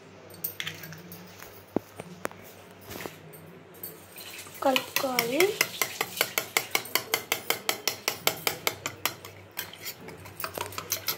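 Eggs with salt and chili powder being beaten for an omelette: a spoon or fork clatters rhythmically against a bowl, starting with a few scattered taps and settling into fast, regular close-up whisking strokes.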